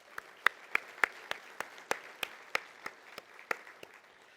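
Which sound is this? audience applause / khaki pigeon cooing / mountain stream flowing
audience applause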